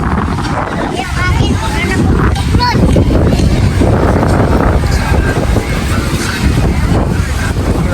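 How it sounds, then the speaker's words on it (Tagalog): Strong wind buffets the microphone at a breezy outdoor seaside spot, a steady roaring rumble through the whole stretch, with people talking over it. "Malakas na hangin."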